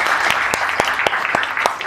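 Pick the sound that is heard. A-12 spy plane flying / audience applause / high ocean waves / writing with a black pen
audience applause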